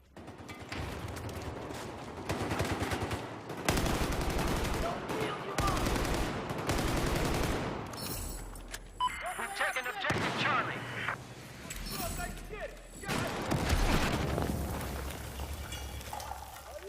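Battlefield 4 multiplayer combat rattles with dense bursts of automatic gunfire and heavier blasts, loud and continuous, with brief lulls and a voice speaking partway through.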